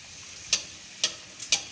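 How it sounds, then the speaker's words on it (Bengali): Luchi, a small puffed flatbread, deep-frying in hot oil gives a steady, soft sizzle broken by a few sharp pops and ticks at irregular intervals. "এখানে লুচি ভাজা হচ্ছে"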